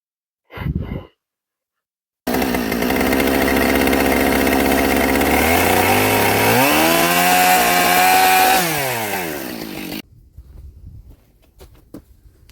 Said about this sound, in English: you got a nice chainsaw, why not use it?